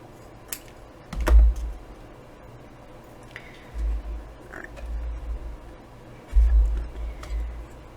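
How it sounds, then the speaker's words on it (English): Scissors cut through thick product packaging, a few soft crunching snips and rustles at close range in an otherwise quiet room. "Let's go ahead and cut it out of this."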